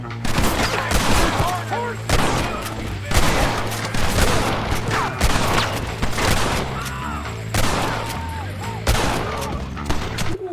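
Gunfire in Red Dead Redemption, with repeated loud shots in clusters every second or two over a steady low music drone, and occasional voices in the background.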